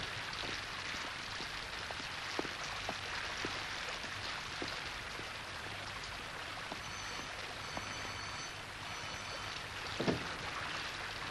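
Steady rain falls outdoors in a dense hiss, with scattered close drips and taps on surfaces standing out now and then, alone with no talking.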